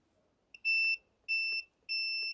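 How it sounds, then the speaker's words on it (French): A digital multimeter set to continuity mode, probing the control board of a Parkside Performance angle grinder under restoration, gives three clear, evenly spaced electronic beeps of equal length, each about a third of a second, with near silence between them. "Donc là, on se met en mode bip."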